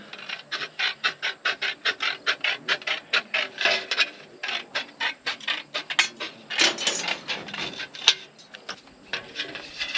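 Metal snips make a rapid series of crisp rhythmic cuts through metal J-trim around a window on a barndominium build, close and loud, with short pauses between bursts of snipping.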